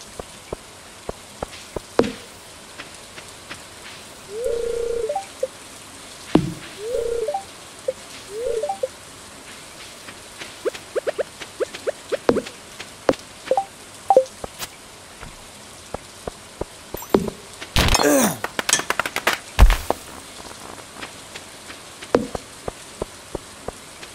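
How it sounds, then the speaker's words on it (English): Rain falling in the farming video game Stardew Valley, a soft steady patter in the background broken by scattered game clicks and taps and a brief louder burst near the end. "It's raining."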